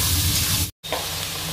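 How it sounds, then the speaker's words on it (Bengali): Onions sizzling and frying in a pan for a Bengali-style palak chicken, a steady broadband hiss broken by a brief cut of silence midway, then continuing at the same level with no talk. "এবার মা ভালো করে পেঁয়াজটা কষিয়ে নেবে।"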